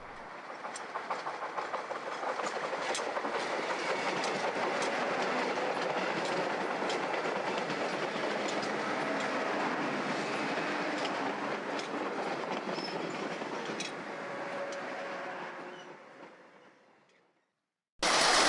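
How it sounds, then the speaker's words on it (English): A Long Island Rail Road passenger train bound for Jamaica rumbles steadily past over a tunnel with rhythmic clacking of wheels on rails, holding loud for several seconds before fading away, ending with a brief abrupt noise. "A Jamaica-bound train passes over the tunnel."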